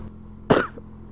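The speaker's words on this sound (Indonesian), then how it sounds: "saya agak sedikit batuk ya" A single sharp cough from a man outdoors on a pine-forest tourist route in the hills of Kare, Madiun, loud and close, over a quiet background, followed by a brief faint throat sound.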